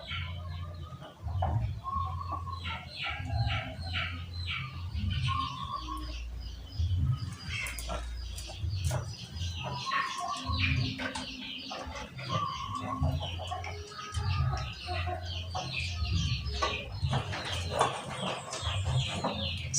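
A sick chicken with a snoring, rattling breath clucks and coos in short repeated bursts over a low, steady background, with other bird sounds mixed in nearby.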